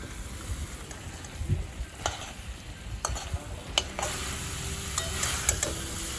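Spoon stirring ground spice paste through drumstick and potato chorchori in a frying pan, with a soft continuous sizzle and scattered scraping clicks of the utensil.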